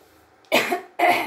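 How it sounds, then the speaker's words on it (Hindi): A woman with a cold coughs twice, two sharp, loud, close bursts about half a second apart after a quiet start. "मुझे भी थोड़ा जुकाम जुकाम हो गया इसलिए मेरा गला फंस रहा है खांसी आ रही है"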